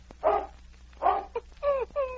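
Sled dog Thunder barking out in the snow, a few short, fairly faint barks and yelps spaced apart, with no other sound around them.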